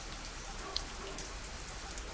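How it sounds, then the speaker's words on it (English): Steady rain hisses throughout in the zombie-survival game Zafehouse Diaries, a continuous broadband downpour with one brief tick near the middle and no voices over it. "it's a terrible thing because of the rain"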